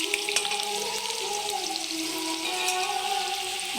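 Potato, bay leaf and green chili frying in oil for a vegetarian bottle gourd dish, a steady close sizzle with bright crackle throughout and a few stirring scrapes, no voices.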